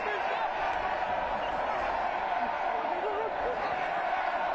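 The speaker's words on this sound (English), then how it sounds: "Crowd making an almighty racket" A loud stadium crowd at a Community Cup rugby finals match at Allianz Stadium keeps up a steady, dense roar throughout, with indistinct voices mixed into the din.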